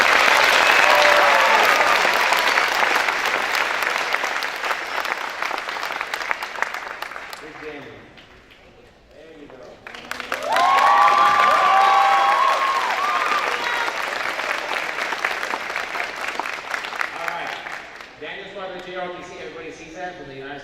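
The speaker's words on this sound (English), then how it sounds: "Let's give him applause." Audience applause at a high school military signing day ceremony: loud, sustained clapping that dips briefly, surges again with cheering, then thins out as a voice starts speaking over it.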